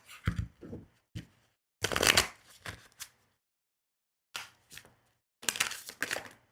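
Quick bursts of tarot cards being shuffled and riffled, several short rustling runs separated by brief pauses, close by with no talking.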